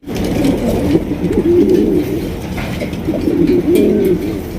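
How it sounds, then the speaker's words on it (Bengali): A yellow Bombay pigeon cock coos loudly in repeated rolling phrases, two bursts of throaty cooing close by over a steady background murmur. "এটা হচ্ছে ইয়েলো কালারের বোম্বাই কবুতর একদম সর্বোচ্চ ডাক দেখাইতেছে"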